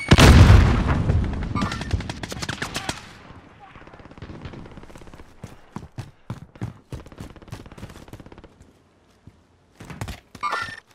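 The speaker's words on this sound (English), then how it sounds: "Grenade out!" Call of Duty Warzone match: a loud grenade blast opens the clip, followed by a dense volley and then scattered sharp gunshots. A closing burst of fire is heard, and there is faint voice activity underneath.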